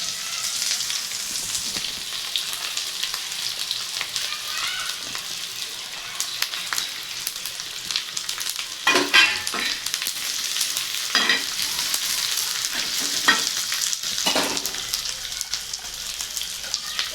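A spoonful of oil sizzles with spices added one by one for a spicy soybean curry. A continuous crackling fry is broken by occasional louder pops and stirring scrapes.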